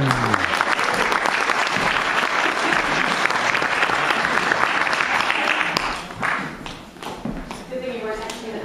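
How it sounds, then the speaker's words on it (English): An audience at a mind-reading show breaks into a loud, sustained round of applause that fades toward the end as a voice begins talking over it. "Nice round of applause."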